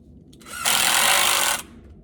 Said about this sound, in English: We're gonna put our drywall screw on this and give it a whirl.